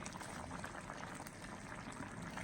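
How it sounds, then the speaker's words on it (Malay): A pot of chicken kerisik curry at a steady boil, giving a continuous close bubbling and simmering hiss with no talk over it. "Dia dah mendidih dah ni"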